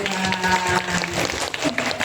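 Schoolchildren at an Indonesian state elementary school, SD Negeri 4, clap together in a dense, lively patter, with a tonal voice or music lingering underneath.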